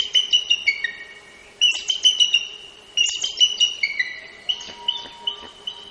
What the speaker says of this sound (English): Here's the call of the bald eagle.